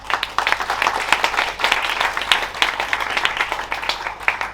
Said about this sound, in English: could you give me a round of applause and welcome my fellow panelists for panel 1